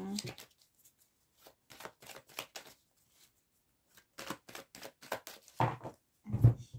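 Tarot cards are shuffled by hand in short, papery riffling bursts separated by brief silences. The bursts are close and clear, with a louder flurry toward the end.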